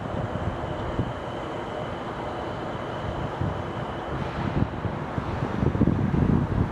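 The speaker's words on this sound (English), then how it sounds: "We're gonna have a Metro Mover coming in our shot here in just a second." A Miami Metromover train passes at an outdoor construction site, heard as a steady rumble under heavy wind noise that swells slightly toward the end.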